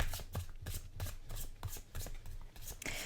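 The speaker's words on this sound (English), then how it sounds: "Is this going to be a good shuffle or not?" A tarot deck, The Tarot of Curious Creatures, being shuffled by hand up close: repeated soft papery riffles and taps in an uneven rhythm of about eight bursts, with no talking.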